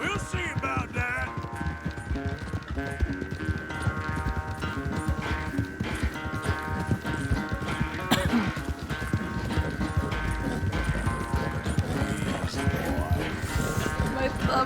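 Horses galloping in a race in the video game Red Dead Redemption, a steady fast clip-clop of hooves running throughout, loud and close, with game music and occasional voices over it.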